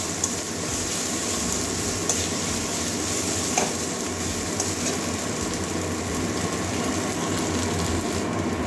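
Ginger-garlic paste sizzles steadily in hot oil in a pan for a Bengali egg curry with potato and pointed gourd, a continuous, even frying hiss with faint stirring and no talking.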